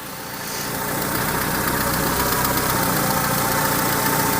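Warm Peugeot 207 petrol engine running at idle, a steady broadband drone with a low rumble that swells in the first second and then holds even and close, with no voices.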